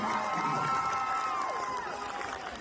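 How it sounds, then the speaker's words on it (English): An audience cheers and whoops for a performer, with excited voices and shouts rising together in a lively burst that stays fairly loud before easing off slightly. "give him some round of applause"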